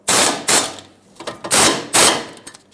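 Ratchet wrench turning the brake caliper bracket bolts on a 2006-2011 Honda Civic front brake, with loud, close bursts of rapid clicking in four or five quick spells.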